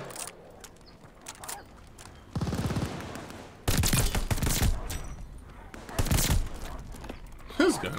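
Bursts of BAR automatic rifle fire in Call of Duty: Vanguard, several loud rapid volleys spaced a few seconds apart over a low background of in-game ambience, with footsteps between the bursts.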